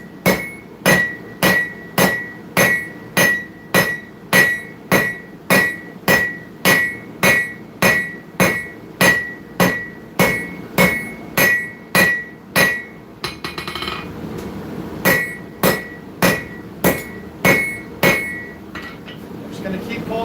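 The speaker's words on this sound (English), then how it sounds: "I'm using the round side of my hammer to do this." A blacksmith strikes hot metal with the round side of the hammer in a forge workshop, giving a steady run of loud, ringing blows about twice a second. After a short pause, a second run of strikes follows.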